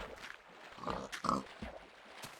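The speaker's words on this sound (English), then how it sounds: "Damn pigs!" Pigs in a video game, Minecraft-style setting, give a few short snorting oinks in quick succession at low volume, separated by brief pauses against a quiet background.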